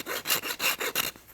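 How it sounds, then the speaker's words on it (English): A rasp scrapes a hand-carved wooden cup and ball in about six quick, rhythmic back-and-forth strokes, close and fairly loud with no voices. "So now I'm going to go ahead and take the rasp and clean this up just a little bit."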